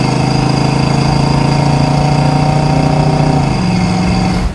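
A 1966 Ford Mustang's little stock 289 V8 runs steadily at close range, a loud, even engine drone with strong low harmonics that shifts pitch slightly near the end before cutting off, with no talk.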